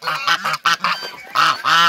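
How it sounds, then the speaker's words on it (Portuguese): Geese in a poultry yard honk loudly and close by in repeated harsh, nasal calls, several overlapping bursts with brief gaps between them. "Os gansos não quer deixar eu falar"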